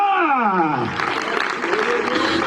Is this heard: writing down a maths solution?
no